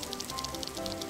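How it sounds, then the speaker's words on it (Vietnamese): Rain in an animated cartoon patters as soft, fairly quiet drops against a steady background hum, over about a second. "Có mưa à?"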